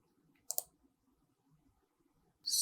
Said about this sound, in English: so if I click here